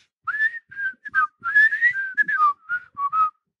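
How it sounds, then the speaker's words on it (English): A person whistles The Andy Griffith Show theme song alone, a clear, tuneful melody of short phrases with brief pauses between them, close and fairly loud. "I was going to whistle the theme song."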